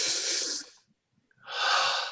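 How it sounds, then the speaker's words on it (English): A person takes a slow, deep breath as a relaxation exercise: a long, close, airy inhale, a short silent pause, then an equally long, full exhale. "Just take a deep breath."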